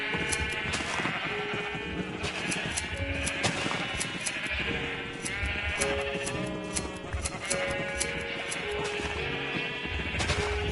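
Sheep bleat repeatedly in Minecraft on a farm ranch, several overlapping calls over a constant backdrop of game music and ticking clicks, with no talk.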